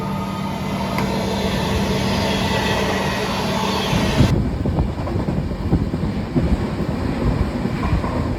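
A passenger train running from Kanyakumari towards Chennai Egmore gives a steady, wind-like rush and rumble that shifts to a rougher, more rattling texture partway through, with no voices.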